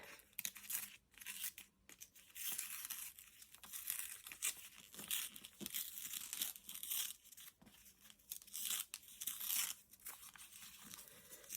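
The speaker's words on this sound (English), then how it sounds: "Let's rip this part open." Paper being ripped open by hand for a junk journal craft project, with repeated close, crisp tearing and crinkling strokes in irregular bursts, fairly quiet and with no talking.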